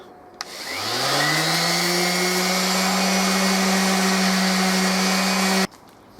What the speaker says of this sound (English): to achieve the final shape, I'm using my trusty rotary sander